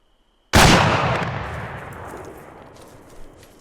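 A single loud gunshot in the video game ArmA 3 cracks sharply after a brief silence, then its echo rolls away slowly over several seconds with a faint later thump.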